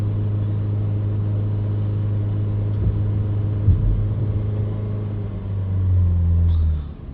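A Vauxhall Vivaro van with a damaged DPF idles nearby, a steady low diesel drone that swells briefly near the end before settling again.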